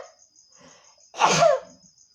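A single sharp sneeze bursts out close by, loud against an otherwise quiet background with a faint steady beeping tone.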